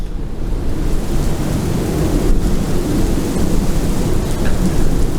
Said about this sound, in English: It's a nice upstream wind here at the moment.